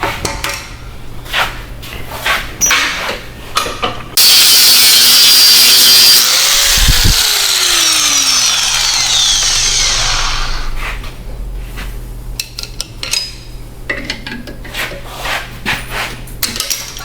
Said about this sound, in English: Maybe grind it down a little bit, make her slide in here.